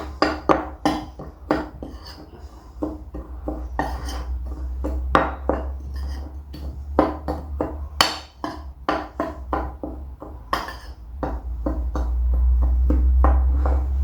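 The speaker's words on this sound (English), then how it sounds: "I'm just going to give it all a good mix" Barbecue dry rub with smoked paprika is mixed in a bowl: a spoon clinks and scrapes against the sides in quick, uneven strokes, close up, over a low steady hum.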